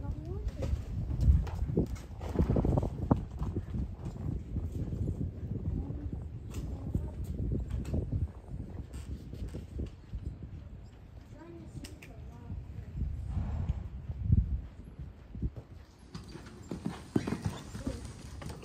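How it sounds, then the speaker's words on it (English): Horse hooves clip-clopping in a steady walking rhythm, close by, with someone talking over them at times. "You got a horse with an automatic lead chain"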